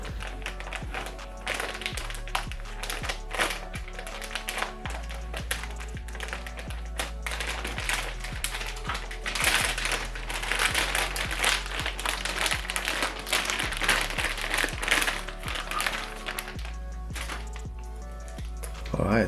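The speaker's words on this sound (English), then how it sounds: "I'm gonna go ahead and cut open the seal." Cutting open the seal on the box of an EVGA RTX 3080 FTW3 Ultra graphics card, a busy stretch of taps, crinkles and plastic rustling that runs steadily through the whole clip.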